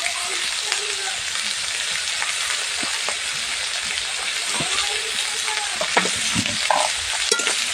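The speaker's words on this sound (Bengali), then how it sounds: "খুব ভালো করে এটাকে একটু ভেজে নেব, এভাবে করে নাড়াচাড়া দিয়ে।" Carrot and cabbage stir-frying for egg chowmein in a pan, a steady loud sizzle with scraping stir strokes and occasional clinks throughout, no voices.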